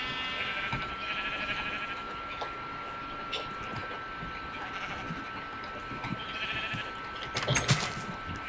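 Sheep in the Minecraft video game bleat now and then across several seconds, faint and somewhat distant, with a sharper burst of activity near the end over a steady low background.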